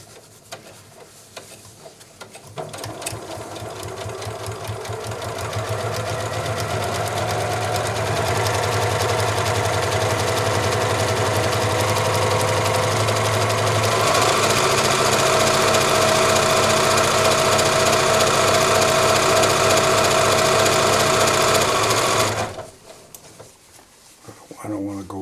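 A Janome Memory Craft 6500P sewing machine stitches fabric at speed, a steady loud mechanical whir that runs for about twenty seconds before it stops abruptly.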